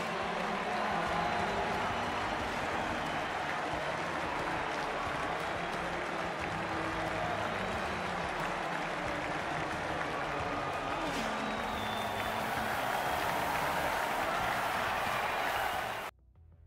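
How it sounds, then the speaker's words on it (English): Crowd applause and cheering for the three riders on the podium in the MotoGP 24 racing game, a steady dense wash of clapping that runs evenly for about sixteen seconds before cutting off abruptly. "Today's result is made even more exhilarating by the size of the crowd for the 3 riders on the podium"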